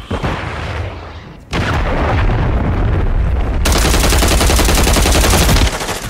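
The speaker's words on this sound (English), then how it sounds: "Hostile cruise missile incoming." Cruise missile strikes land in a video game as dense, loud rumbling explosions mixed with rapid gunfire, building into a sustained roaring barrage that continues for several seconds.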